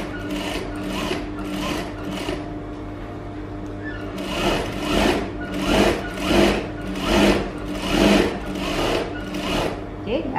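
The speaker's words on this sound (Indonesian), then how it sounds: "kita teruskan jahitan" Sewing machine running double stitches along fabric for a layered-edge skirt, a series of rhythmic whirring bursts that swell and fade, with a voice talking over part of it.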